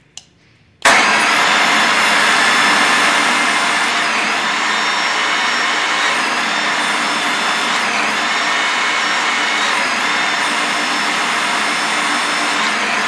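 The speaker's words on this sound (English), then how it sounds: "now I can come in here and run this torque wrench" A Valley Forge powered torque wrench from the SPC4 Model 424A bolt system starts abruptly after a brief click, then runs as a loud, steady high-pitched whine with slight shifts in pitch.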